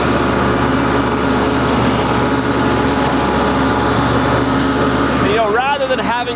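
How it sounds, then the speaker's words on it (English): A Laneshark Hammerhead flail mower mounted out front on a tractor loader cuts through brush, giving a loud, steady engine and mowing roar that holds throughout, with a voice rising over it near the end. "With the Laneshark here out in front of the loader, you can mow out in front of yourself."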